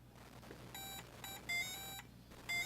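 Beeping electronic tune from a Game & Watch Mario Cement Factory handheld, a short run of thin square-wave notes played quietly over low background hum.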